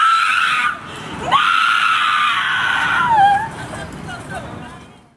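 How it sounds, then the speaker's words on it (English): A young woman screams in anguish in the aftermath of a shooting, one long, loud, shrill wail breaking into a second sustained cry and then trailing off into sobbing whimpers, with murmuring voices in the background. "The bone-chilling screams you just heard were caused by the aftermath of gun violence."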